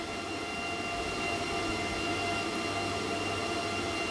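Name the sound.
crypto mining rig fans in grow tent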